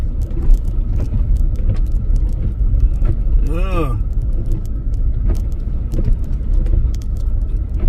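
A car stuck in deep snow during an 11-inch snowstorm revs its engine hard, the pitch rising and falling in a brief strained surge over steady low rumble, with voices talking nearby.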